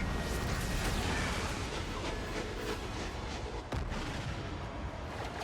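Ship turret fire in the video game Star Wars Outlaws: a continuous loud, rattling barrage of shots with a rhythmic mechanical clatter that runs without a break and has no talking over it.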